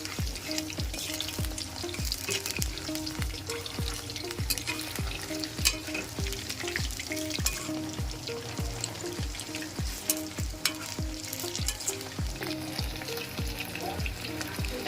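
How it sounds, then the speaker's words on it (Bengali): Chicken pieces for chicken 65 fry in hot oil in a pan, a constant crackling sizzle with regular scraping strokes of a stirring utensil repeating about twice a second. "তারপর চিকেনটার এক দিকটা যখন ভাজা হয়ে যাবে তখন সেগুলোকে উল্টে দেব।"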